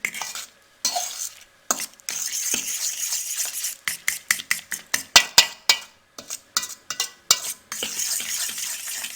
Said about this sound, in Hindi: अच्छे से मिक्स करें ताकि तमाम मसाला जात दही में अच्छे से मिक्स हो जाएं।